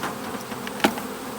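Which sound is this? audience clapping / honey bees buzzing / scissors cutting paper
honey bees buzzing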